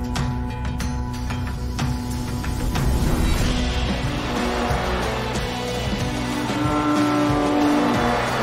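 A second-hand 2010 Porsche runs on a private race track, its engine droning steadily with shifting gears and tonal rises, loud and continuous throughout without talk.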